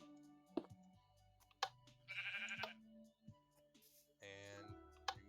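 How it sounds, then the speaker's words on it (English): Sheep in Minecraft Bedrock bleat several times in short, nasal video-game calls separated by gaps, fairly quiet and close. "Gotta love the sheep."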